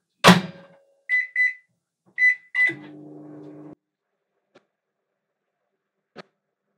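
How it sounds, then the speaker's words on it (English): A microwave oven heating a cup of water for candle-wax removal: a door or latch clunk, a few short beeps as buttons are pressed, then a steady low hum of the oven running before it stops, with two faint clicks afterward. "I'm going to put it in the microwave for 3 minutes"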